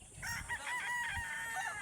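A rooster crows in a drawn-out call, moderately distant, over a noisy outdoor background.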